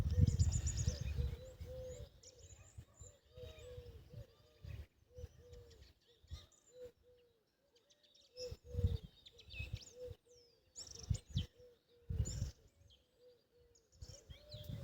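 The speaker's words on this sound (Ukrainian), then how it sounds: "пташки співають там в садочку, сидять на деревах" Birds chirp and sing repeatedly from garden trees in a quiet setting, with a cooing dove and occasional rustling thumps nearby.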